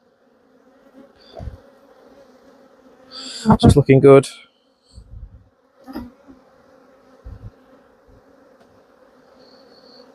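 Honey bees buzzing near and faint during a beehive inspection, with a colony showing an alarm response; a steady low hum runs throughout under brief bursts of handling noise and a short spoken remark.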